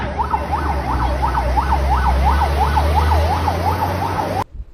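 A toy fire truck plays a loud, close electronic wailing siren that rises and falls in a fast, regular cycle for several seconds before cutting off abruptly.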